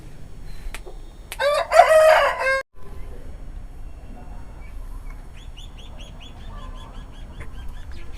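A fighting rooster, a bird bred for cockfights, gives one loud, close crow in the middle. Fainter chirping from other fowl follows against a quiet outdoor background.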